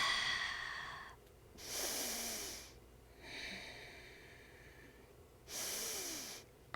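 A person holding a high plank breathes audibly, two strong exhalations a few seconds apart rising out of a quiet room, close and alone.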